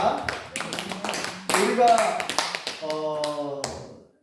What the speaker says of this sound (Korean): 우리가 하나님께 감사와 찬송과 영광의 박수 올려드리겠습니다